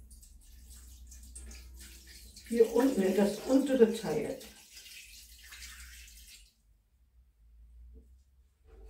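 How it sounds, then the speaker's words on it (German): Water is poured into the lower part of a summer decoration container, a splashing pour lasting about two seconds. Someone talks over and around it, and the room goes quiet afterward. "Wasser mache ich jetzt rein"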